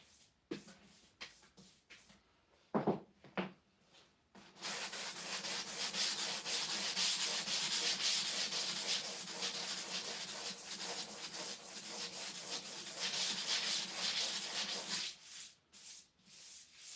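Steady, continuous hand block sanding of a race car dashboard, a dense rasping scrape running for several seconds after a few short taps and rubs, close by with no talking.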